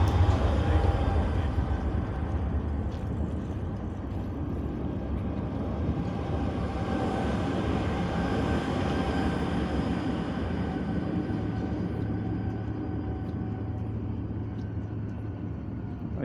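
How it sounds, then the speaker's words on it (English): A steady, low rumble of trams in Bratislava's Old Town rolls on without pause, loud and close, with a broad hum underneath and no clear voices. "You can hear the rumble of these trams."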